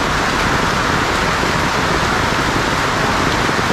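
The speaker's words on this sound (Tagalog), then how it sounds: "Dito, ang lakas ng ulan." Heavy rain pours down in a dense, steady hiss of countless drops hitting surfaces, loud and unbroken, with no voices.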